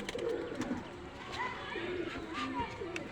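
Imported teddy pigeons coo softly and repeatedly at close range while someone talks over them throughout.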